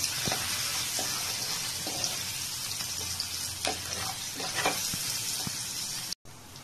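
Ginger garlic paste fries in a pan for an egg curry, a steady broadband sizzle running throughout with a few soft scrapes of stirring, close and fairly loud, cutting out briefly near the end.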